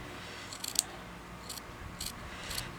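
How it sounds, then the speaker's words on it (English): Scissors snipping fabric for a crazy patchwork blanket: a few brief, faint crisp cuts spaced about half a second apart, close by in a quiet room with no talk. "I'm going to cut that straight."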